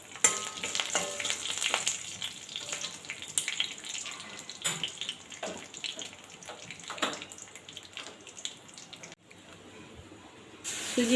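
Semolina frying in oil in a wok with mustard seeds, curry leaves, chillies and peanuts, a steady crackling sizzle with scraping stirs throughout, fairly quiet, with a brief dip near the end before the hiss returns.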